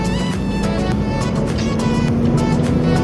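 Isuzu Giga Smoother G truck engine running steady and loud close by, a continuous low diesel drone with gently rising revs held under the green RPM zone.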